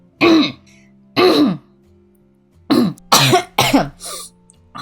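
A person coughs and clears their throat in several separate bursts, close and loud, with a cluster of rapid coughs near the end.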